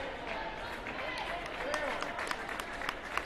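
Crowd applause fills a high school boys basketball gym after a player fouls out of a substate game, steady clapping at moderate distance with scattered sharper claps and voices mixed in.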